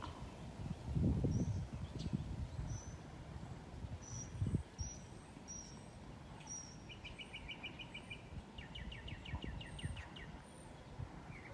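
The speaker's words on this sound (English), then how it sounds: "Hear those beautiful birds." Several birds chirp and sing outdoors, with bright repeated calls and trills scattered over a steady background of rustling and low outdoor noise.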